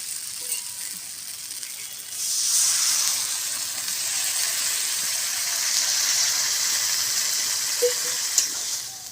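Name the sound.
water poured into hot pan of cabbage, hissing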